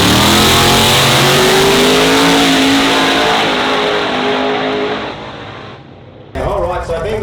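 A turbocharged small-block drag racing car revs hard and loud at a drag radial event, the engine note holding steady then tapering off before another burst of engine noise, with an announcer's voice over it.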